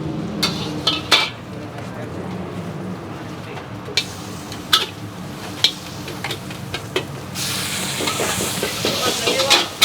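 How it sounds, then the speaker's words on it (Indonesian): Mie goreng fried noodles cook in a pan with steady sizzling, sharp clanks of a spatula against the pan, and stirring noises, with a louder burst of frying near the end. "sekarang gue bakal bikin mie goreng lagi 2"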